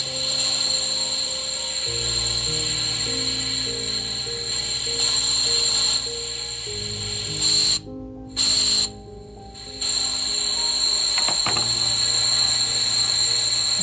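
Compressed air bleeds slowly from an Onix Kron PCP air rifle as a screw is loosened. A loud, steady hiss carries a whistling tone, breaks off twice near the end, then resumes.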